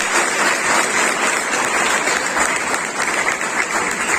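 Sustained, dense applause from a large audience at a religious discourse gathering, steady and full throughout with no lulls, no voices audible above it.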